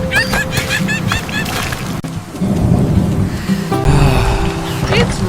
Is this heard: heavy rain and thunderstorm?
yes